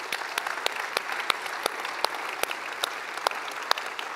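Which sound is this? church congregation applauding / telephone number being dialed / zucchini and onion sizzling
church congregation applauding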